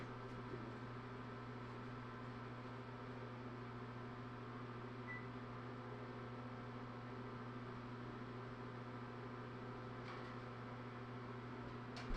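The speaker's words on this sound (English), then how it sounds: "Wait, in a microwave?" A microwave oven runs with a steady, quiet electrical hum and whir, unchanging throughout, with a faint tick or two and no voices.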